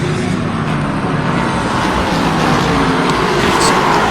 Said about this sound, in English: we already have a car coming into the pits, the number 1 Ford